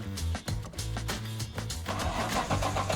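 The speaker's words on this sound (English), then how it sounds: "All right, cranking." A Nissan R31 Skyline engine cranks over on the starter with a loud, steady rhythmic churning that carries through the whole moment, with no voices over it.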